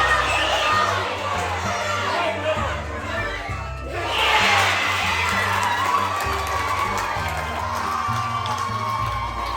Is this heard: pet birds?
no